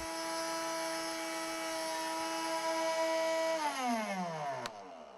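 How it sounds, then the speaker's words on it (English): A homemade oscillating-blade toy table saw runs with a steady motor whine and buzz, then winds down in pitch toward the end, close by with no talking. "The blade on this table saw I've invented is oscillating instead of rotating."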